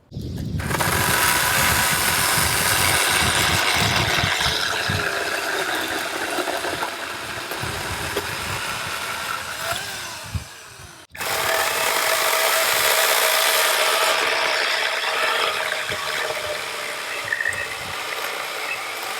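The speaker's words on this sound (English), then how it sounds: "I'm going to show you, again, a side-by-side cut with these chainsaws" Two battery 40V chainsaws, a Wild Badger and a Ryobi, running hard and biting through wood in two long cuts separated by a brief pause, loud and close with no talking.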